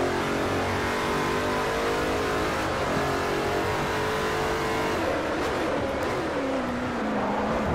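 Koenigsegg race car engine in Forza Motorsport 4 revving hard on a circuit, a loud continuous roar climbing and shifting pitch with no voices over it.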